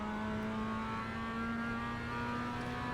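Steady engine drone from a Mazda MX-5 race car in iRacing at Okayama, held at full power through a corner, with a strong constant tone and no talk over it.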